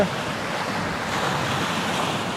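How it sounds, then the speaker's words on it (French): Steady evening wind rushing past at sunset, a continuous broadband roar with gusty texture, fairly loud and close, no voices. "Il y a ce vent toujours qui pousse là dans mon dos."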